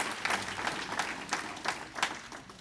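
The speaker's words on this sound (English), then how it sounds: "let's give him a round of applause" An audience at the Lonesome Pine Raceway awards banquet gives a short, moderately loud round of applause, with clapping that swells and fades over a couple of seconds.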